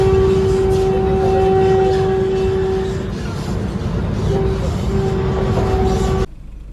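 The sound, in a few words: Vande Bharat Express train riding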